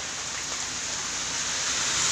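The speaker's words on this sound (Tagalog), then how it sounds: "umuulan pa oh" Steady rain pouring down during a stretch of stormy weather, a constant, even wash of noise with no distinct drops or voices.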